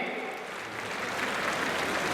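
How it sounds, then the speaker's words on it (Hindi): Crowd in a large pavilion applauding to welcome Baba Ramdev, a steady dense wash of clapping that swells slightly louder toward the end, with no voices standing out. "तालियां बजती रहे।"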